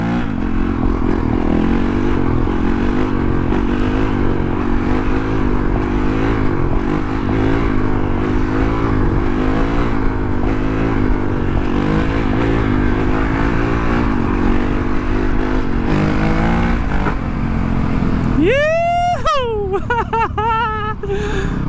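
Honda CRF450L dirt bike engine revs and pulls steadily under acceleration while being ridden, loud and close with wind rumble, and a rider talks over it.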